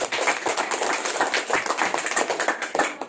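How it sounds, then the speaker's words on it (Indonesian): A small school audience of students and teachers at a junior high in Nian claps for a student, producing close, uneven, rapid hand claps of varying strength without speech. "Tepuk tangan untuk Paskalis."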